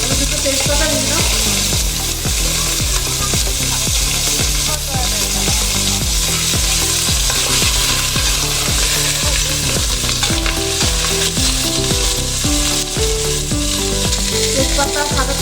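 Chicken pieces browning in white oil with a bay leaf, frying with a constant loud sizzle and repeated scraping, rhythmic stirring strokes throughout, no talking.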